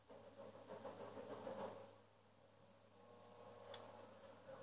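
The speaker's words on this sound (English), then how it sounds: "Keep the engine running." Car engine idling in the open-world game Sleeping Dogs, a steady mid-pitched rumble that swells slightly then settles, with a brief sharp tick near the end; no talk.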